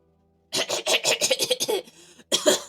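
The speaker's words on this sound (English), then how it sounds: "How do you cough and then say ahem?" A video game character coughs in a quick run of rough, raspy bursts, breaks off for a moment, then gives one more cough. The sound is close and clear.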